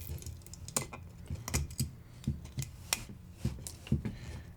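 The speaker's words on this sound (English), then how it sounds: "So I'm gonna have to cut this off of his ear." Sharp, quick snips and clicks of cutting support material off a 3D-printed figure's ear, coming in an irregular run of close, fairly quiet taps.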